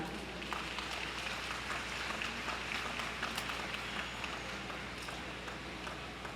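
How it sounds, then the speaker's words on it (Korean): A large crowd at a national teachers' memorial rally claps in a steady, rain-like wash that sounds soft and distant and lasts throughout. "다시 한번 박수 부탁드립니다"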